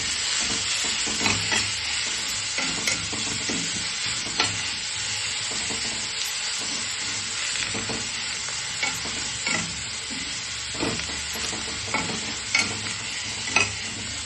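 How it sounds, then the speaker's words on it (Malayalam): Curry leaves sizzle in hot oil in a pan for a vegetable mix, with a continuous bright frying hiss and repeated scraping stirs at a steady, unhurried rhythm close up. "കറിവേപ്പില ഇട്ടു"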